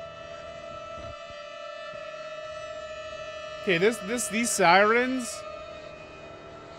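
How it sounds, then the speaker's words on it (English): A wailing siren in the video game Outlast rises and falls twice over a steady synthetic background hum, loud and close, with a brief spoken word near the start. "these sirens can stop"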